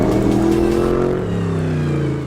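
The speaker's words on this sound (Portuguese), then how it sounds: "I'm proud to introduce to you the Mustang GT3." Ford Mustang GT3 race car engine revving, a loud, close, sustained throaty roar with pitch bending as the revs shift, heard alone.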